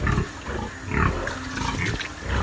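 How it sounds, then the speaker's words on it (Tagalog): Goats on a backyard farm after a typhoon, bleating in short, coarse cries that rise and fall over steady outdoor noise, close to the listener. "Ito po yung mga kambing natin."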